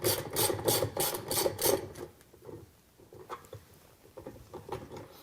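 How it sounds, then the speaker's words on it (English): Socket ratchet with extensions loosening the long upper agitator bolt nut on a Whirlpool washer, a run of quick rhythmic ratcheting clicks up close that fade into slower, scattered turns. "just drop it right down in onto the bolt itself and just loosen that nut."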